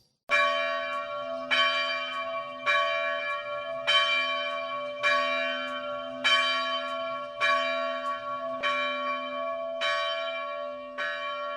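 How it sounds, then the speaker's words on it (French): Cathedral church bell tolling steadily, about ten evenly spaced strikes with long ringing overtones overlapping one another, loud and clear with no voices. "la cloche de la cathédrale retentit"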